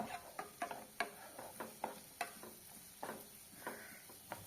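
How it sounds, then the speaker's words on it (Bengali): Vegetables for peri peri pasta are stir-fried in a pan, with a soft sizzle under rhythmic scraping and tapping of a spatula, about a dozen sharp strokes at a steady pace, close and fairly quiet, no talking. "এই সব ভেজিটেবলসগুলোকে দু থেকে তিন মিনিট ভেজে নেব"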